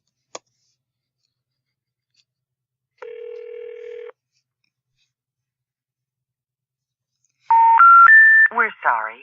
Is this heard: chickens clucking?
no